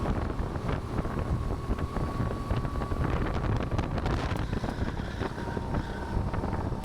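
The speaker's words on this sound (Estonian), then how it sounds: "Aga igatahes tuul on nüüd olemas." Strong wind buffeting a microphone at the Raassilla rallycross karting track, a constant heavy roar with choppy gusts, while a kart engine hums steadily beneath it.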